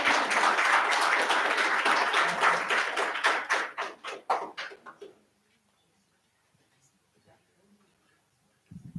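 An audience at a democracy anniversary celebration applauds in a dense, sustained burst that thins into scattered individual claps after about five seconds, then gives way to near silence.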